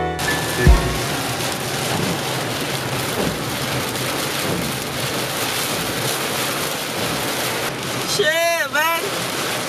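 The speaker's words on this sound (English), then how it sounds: "This rain is crazy." Heavy tropical downpour roars steadily and loudly throughout, a dense constant hiss of rain with a brief thump near the start and a short burst of voice near the end.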